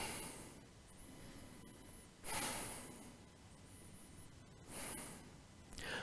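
Two strong breaths, each a broad, airy rush, rise over a soft, steady background as someone holds a deep twisting yoga pose in a vinyasa flow.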